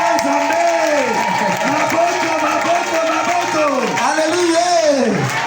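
A church congregation at a Sunday service acclaiming the Lord, a loud crowd of cheering and whooping voices with applause, sustained throughout, while a voice leads over the top.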